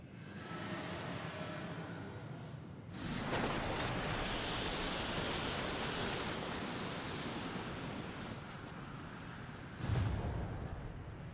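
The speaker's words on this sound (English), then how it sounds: "There's a wind." Wind gusting in the Final Fantasy XIV game world, a broad continuous rushing roar that swells suddenly after a quieter start and holds steady with another brief surge near the end, no voices.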